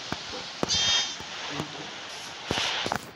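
Baby sheep bleating in Minecraft, a wavering bleat near the start and another near the end, with game clicks and footsteps around them.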